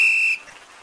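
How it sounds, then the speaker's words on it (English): A whistle in the video game Gorilla Tag sounds a single loud, steady, high-pitched tone for about a third of a second, then cuts off into faint background noise. "now I got the whistle"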